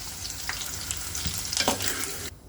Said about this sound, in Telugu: ఆనియన్స్ వేసుకుని ఫ్రై చేసుకుంటాను